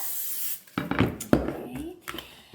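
A short hiss of cooking spray, then clattering and rubbing of a 9 by 13 baking pan being handled, with brief spurts of spraying.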